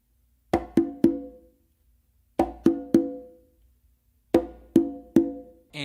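Congas and tumba played by hand: an open tone on the tumba, a close slap, then two opens on the conga, repeated three times as a crisp, resonant triplet-like figure with pauses between each group.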